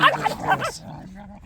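Dogs in a forest yip and bark in short, close bursts while being fed, with a person's voice mixed in.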